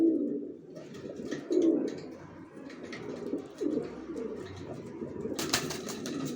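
Young racer pigeons coo softly and repeatedly in low, throaty bursts, close by, with a few faint chirps and a short flutter of wings near the end.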